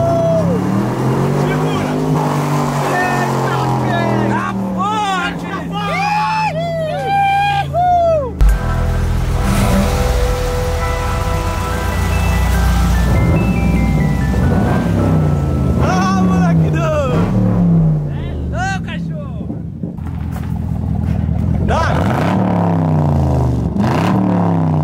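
A car engine revs hard and roars loudly in repeated surges with rising and falling pitch, close by, while excited voices shout and talk over it.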